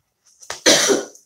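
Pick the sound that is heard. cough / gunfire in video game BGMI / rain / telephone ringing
cough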